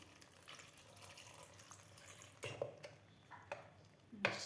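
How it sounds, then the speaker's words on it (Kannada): Water is poured into a pot of lentils and garlic in short, faint splashing bursts, quiet and close, with no voices. "ಸ್ವಲ್ಪ ನೀರು ಹಾಕ್ಕೊಳ್ಳೋಣ ಇದಕ್ಕೆ"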